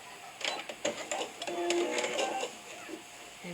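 A sewing machine stitching a hem on a fabric bucket produces a busy, uneven burst of close mechanical whirring and clatter, lasting about two seconds before tapering off.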